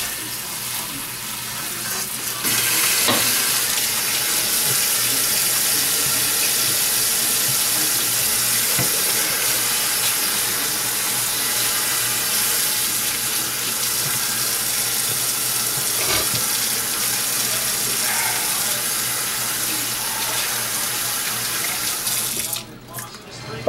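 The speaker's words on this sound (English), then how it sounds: "I'm just going to take my sprayer, hit them with a little bit of water, move them around just a little bit" A kitchen sink sprayer blasts water over sliced jalapenos, a loud, steady hissing spray that runs for about twenty seconds before cutting off, with faint clatter of the peppers being moved around.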